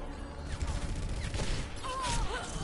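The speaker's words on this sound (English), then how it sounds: "I'm using the SMG." SMG gunfire in a first-person shooter video game crackles in rapid, dense bursts amid a busy mix of game effects and tonal whistles, sustained loudly throughout the short stretch.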